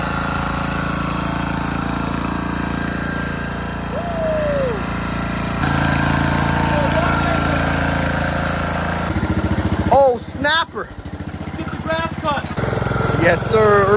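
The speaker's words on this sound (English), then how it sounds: "It's an old mower, but it works good." An old lawn mower engine runs with a steady, fairly loud drone through the first part, then voices and other activity take over near the end.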